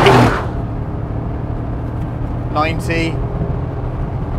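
Mercedes G63 AMG accelerating hard while towing a heavy load, a loud engine burst at the start settling into a steady rumbling drone, with someone speaking over it.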